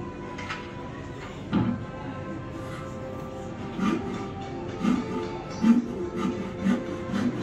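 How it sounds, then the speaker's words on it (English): Woodworking sounds at the life-size Noah's Ark exhibit in Williamstown, Kentucky: scattered rubbing, scraping and rasping strokes of wood, a handful of short bursts over a low ambient background. "Woodworking on the ark."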